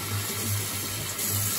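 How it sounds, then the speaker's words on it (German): Cold water pours steadily into a container of pork tenderloin with salt, pepper and juniper berries for a brine, a continuous close gushing wash with no speech. "und jetzt kommt einfach nur kaltes Wasser."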